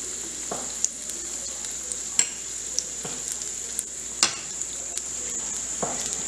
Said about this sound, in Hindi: सारी मिर्चें इसी तरह से फ्राई कर तैयार कर लेंगे।